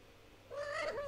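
A cat gives a single short, faint meow, rising then falling, heard alone in a quiet room.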